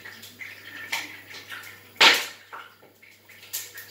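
Fish, a branzino, frying in a wok of oil gives off scattered sharp pops and crackling spatters, one loud burst standing out among smaller irregular snaps over a faint low hum.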